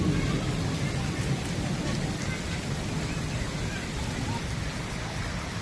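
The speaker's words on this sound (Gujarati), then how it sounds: "તો જોઈ લો તમે વરસાદ ચાલુ છે" Steady, even rainfall with hail hisses continuously, a dense wash of drops with no pauses.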